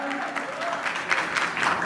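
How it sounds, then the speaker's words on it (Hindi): Audience applause welcoming a Bhojpuri singer onto a stage in Lucknow, a dense, steady clapping of moderate loudness with a voice speaking over the start. "एक बार जोरदार तालियों के जरिए सभी लोग प्लीज वेलकम"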